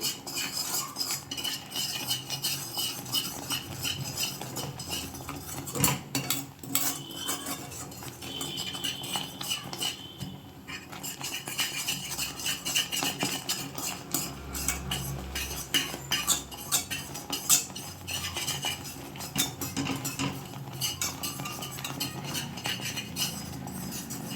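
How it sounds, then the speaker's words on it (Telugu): Mysore pak batter stirred in a metal vessel with steady scraping and clinking of a utensil against the pot, continuous and close, with no talking. "ఇలా లంప్స్ లేకుండా బాగా మిక్స్ చేయండి"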